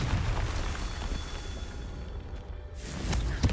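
A Confringo spell explosion in Hogwarts Legacy gives a broad, rumbling fiery burst that carries on steadily, then briefly dips and swells again near the end.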